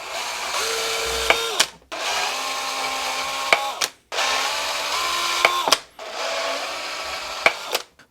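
A power drill bores a 5.5 mm bolt hole while a holeshot launch device is being installed. The drill whirs steadily in four short runs of about two seconds each, with brief pauses and sharp stops between them.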